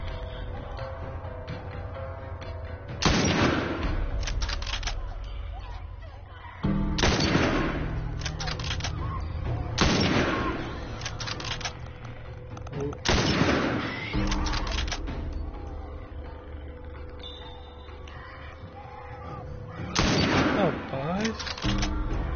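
Gunfire rings out in the video game The Last of Us: several loud, sharp bursts of shots spaced a few seconds apart, standing out over a quieter game background.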